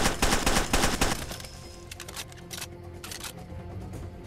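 Rapid automatic gunfire from a rifle in the shooter game Far Cry 2, a dense burst of loud shots for about a second, then scattered single shots and echoing impacts trailing off.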